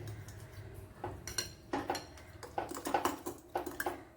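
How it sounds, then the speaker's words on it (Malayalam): Eggs with curry leaves being beaten in a bowl in a Kerala home kitchen for egg thoran: quick, uneven clinks and scrapes of a utensil against the bowl in short rhythmic bursts, close and fairly quiet. "ഇനി ഇതിനെ നല്ലവണ്ണം ഒന്ന് ബീറ്റ് ചെയ്തെടുക്കുക"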